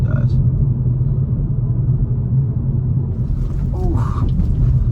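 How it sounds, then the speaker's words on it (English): Low, steady road rumble fills the interior of a moving 2022 Hyundai Veloster N with a 6-speed manual, with a brief voice breaking in near the end. "You hear some road noise"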